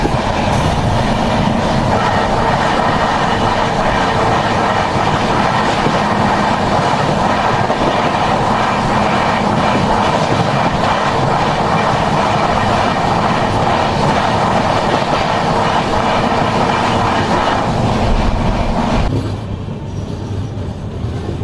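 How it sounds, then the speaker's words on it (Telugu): The Prashanti Express, train 18463, runs between Tadepalligudem and Eluru with a steady loud rumble and rhythmic clickety-clack of wheels on rails, heard from inside, and the roar drops near the end. "మన ట్రైన్ తాడేపల్లిగూడెం నుంచి అయితే బయలుదేరిపోయింది."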